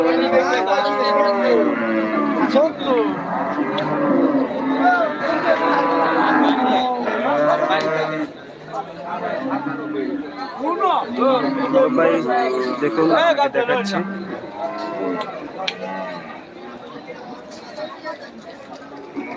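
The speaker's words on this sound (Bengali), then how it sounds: "এবং পালন করার জন্য গরু এখানে দেখতে পাচ্ছি" Cattle at the Deohata cattle market moo again and again, loud, drawn-out calls rising and falling close by, mixed with someone speaking and background crowd chatter.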